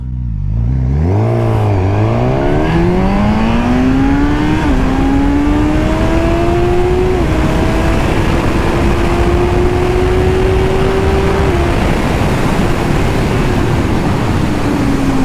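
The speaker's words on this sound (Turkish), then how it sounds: "Ben size 0-100 yapayım bir bakın." A 2022 Suzuki GSX-S1000 motorcycle accelerates hard from standstill. The engine note climbs loudly and steadily through several gear changes with brief dips, then holds a high, sustained whine at speed.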